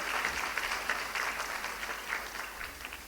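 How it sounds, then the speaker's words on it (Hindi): An audience claps continuously at a school event in Noida, a dense, steady applause heard alone throughout at even loudness. "तो एक बार जोरदार उनके लिए हम सब ताली बजाएंगे"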